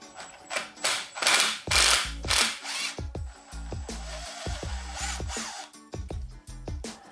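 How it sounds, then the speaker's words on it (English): A hand tool works a bolt loose on a paramotor propeller hub, giving close, crisp bursts of ratcheting clicks in uneven spurts with brief pauses between them. "the next step is to loosen up this here bolt on the back side of the hub"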